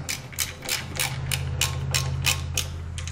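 A ratchet clicks in quick, evenly spaced strokes while tightening the mount of a Cyron LED passing lamp on a Harley-Davidson, close and clear over a low steady hum.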